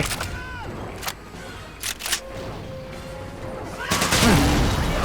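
Gunfire from the Medal of Honor: Pacific Assault video game, with bursts of shots and explosions, including machine-gun fire. Sharp bursts come amid game noise, with a louder dense stretch near the end and talk over it.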